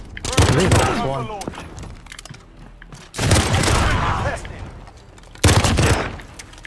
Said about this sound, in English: Holy shit, that's a badass handgun